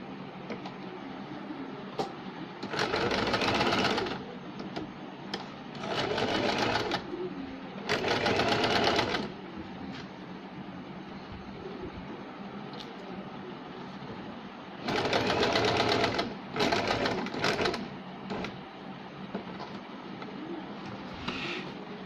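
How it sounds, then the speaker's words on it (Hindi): Sewing machine running a straight stitch along a saree fall with a regular presser foot, in several separate bursts of steady rapid whirring, with quiet gaps between them. "अब यहाँ हम सीधी सिलाई लगाएंगे।"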